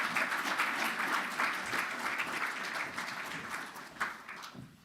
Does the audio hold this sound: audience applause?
yes